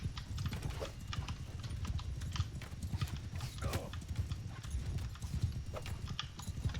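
Horses gallop in Mount and Blade 2 Bannerlord, a dense, steady clip-clop of many hooves pounding continuously, with a brief whinny in the middle of the mass of riders.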